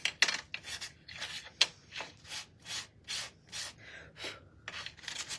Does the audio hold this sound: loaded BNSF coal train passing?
no